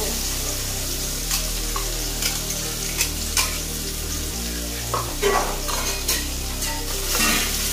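A ground paste of onion, ginger, yogurt, coriander and chili fries in a pan for egg curry, with a steady close sizzle and occasional scraping stirs of a spoon against the pan.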